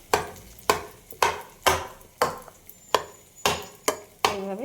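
Hot fried onion, green chilli, pointed gourd and eggplant are pressed and mashed into a paste, giving about nine sharp, evenly spaced knocks close by with no talking.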